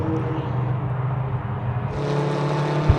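Volkswagen-powered Formula Vee race cars in a circuit race give a steady, loud engine drone that swells as one car passes nearby, with no talk over it.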